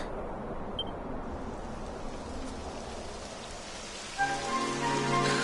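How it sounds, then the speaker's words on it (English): Steady video-game rain patters and hisses throughout, fairly soft, with a brief tonal hum rising in near the end. "It would have to go and start raining, wouldn't it?"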